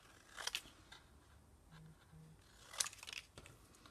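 Stamped paper pieces are cut out with scissors in a few quiet, close snips, spaced apart, with soft rustling between them and no talking.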